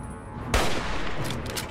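A hunting rifle fired in the video game Fallout 3: one sharp, loud gunshot with a booming tail that rings out and fades over the following second, no talking.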